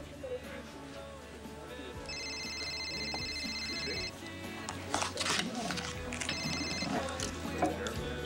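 A telephone rings in two electronic trilling bursts under background music and room noise during a dramatic scene, with a voice nearby.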